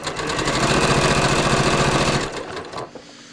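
A sewing machine with a presser foot stitches fabric in a fast, steady mechanical whir with a rhythmic needle chatter, loud and close, then slows and stops after about two seconds.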